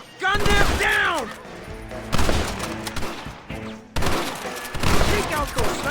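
A Western gunfight in Red Dead Redemption, with repeated loud gunshots and volleys crackling close by, interspersed with shouted voices and impacts over several seconds.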